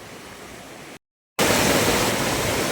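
The Shitkada waterfall near Nashik roars as a dense, even hiss. It drops to silence for a moment at a cut, then returns louder and closer, with no voices.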